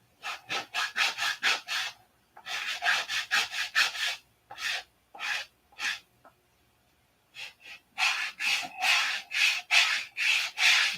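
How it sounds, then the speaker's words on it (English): Hand sanding a wooden aircraft wingtip: quick bursts of rhythmic back-and-forth rasping strokes, close and fairly loud, with short pauses between sets and no talk. "need to sand a little more off of that."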